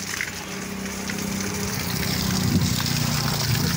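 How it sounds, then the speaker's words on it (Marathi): Water poured by hand onto trees, including a lemon tree, in a hot summer garden in the afternoon sun: a steady, moderately loud gushing wash that runs without pause, with a low rumbling undertone throughout. "प्रत्येक झाडाला पाणी टाकते आता"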